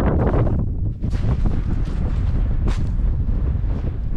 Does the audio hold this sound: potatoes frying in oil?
no